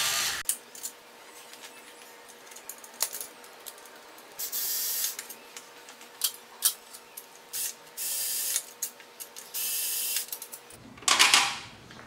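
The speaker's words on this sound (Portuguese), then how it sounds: "eu só vou terminar de desparafusar todos os quatro parafusos usando essa haste flexível aqui da parafusadeira" A power screwdriver fitted with a flexible shaft backs out the bolts of a rack on a Yamaha XV 250 Virago motorcycle, whirring in short repeated bursts up close, with a louder clatter near the end.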